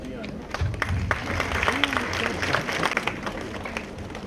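Scattered clapping from a crowd with overlapping voices and chatter, steady and moderately loud throughout.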